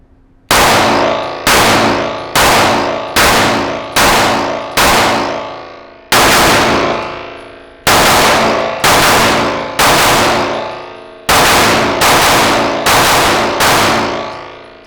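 A Walther PDP pistol fires a magazine fitted with a +3 extended base plate: about thirteen loud, sharp shots in quick groups with short pauses, each ringing out with a decaying echo.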